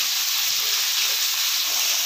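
Garlic added to onions sizzles steadily in a hot pan, a continuous bright frying hiss that stays even and close throughout, with no talking over it.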